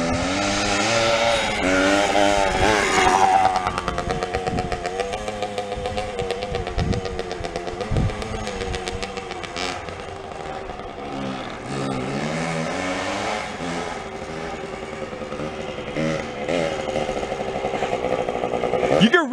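A junk Suzuki 80 motorcycle engine revs up and down repeatedly close by, its buzzy two-wheeler note rising and falling in pitch, with people talking over it now and then.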